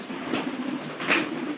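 Domestic pigeons cooing softly at a feeding spot indoors where corn is scattered, with low murmuring calls rising twice over a steady background hum.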